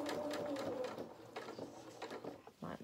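A domestic sewing machine stitches a dress seam for a small doll outfit, a quiet, fast mechanical whir with rhythmic ticking that pauses and restarts briefly.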